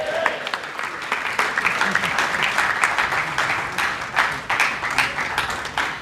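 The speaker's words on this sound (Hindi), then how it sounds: "एक बार सब खड़े होकर तालियां बजाएंगे अश्विनी उपाध्याय जी के लिए।" An audience stands and claps for Ashwini Upadhyay, a sustained, lively round of applause with sharp individual claps rising out of the continuous crowd noise.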